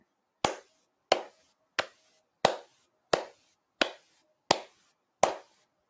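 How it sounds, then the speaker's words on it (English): Hand claps repeating at a steady, even beat, eight sharp crisp strikes spaced evenly, close and alone with no other sound between them. "now let's try clapping at a steady beat"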